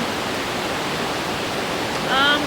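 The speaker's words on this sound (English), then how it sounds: "hearing the water, that background noise is like cleansing and relaxing" Steady rushing water fills the scene like a nearby stream along a gorge trail, constant and even, with a brief high chirp near the end.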